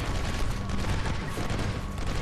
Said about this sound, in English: Ooh, I got an explosion kill.